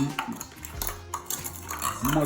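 Brown sugar being muddled in a glass for a mojito: a twisting, pushing scrape and clink of a muddler against glass, in short repeated grinding strokes, close and fairly quiet, with no talk over it.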